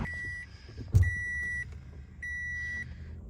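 A car being shifted into reverse sounds its reversing chime in repeated steady electronic beeps, with a single soft thump in the middle and the quiet cabin behind.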